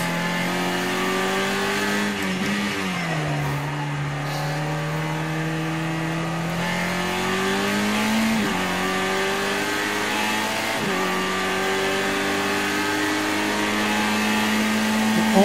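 Race car engine in Project CARS 2 during a Sportscar Lites European Championship round, revving loudly and steadily the whole time, its pitch rising and falling through gear changes, with no voices over it.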